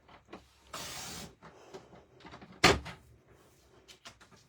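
A paper trimmer's blade slides through patterned card paper with a quick scraping swish, surrounded by soft handling clicks and taps in a quiet room.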